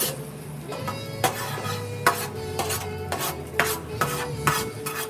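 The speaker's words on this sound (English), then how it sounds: "get that all stirred together" A utensil scrapes and stirs jambalaya in a Matador pan set on a Recteq Bullseye Deluxe grill, with rhythmic metallic rasps about every half second over a steady low sizzle and hum, close and fairly loud, with no talking.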